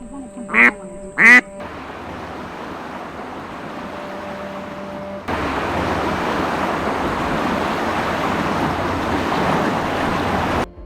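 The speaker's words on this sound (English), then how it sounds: "Oh my gosh, look how many ducks are coming." Two loud duck quacks up close, followed by steady rushing water that grows louder and fills the rest.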